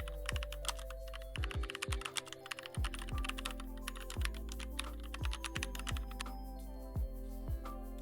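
Someone types a prompt on a computer keyboard, a dense run of rapid close key clicks and taps with a few heavier strokes, continuous and fairly quiet with no one speaking.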